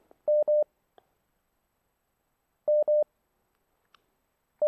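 Short paired telephone tones sound after a call-in line drops, repeating in clear bursts with silence between them and no talking.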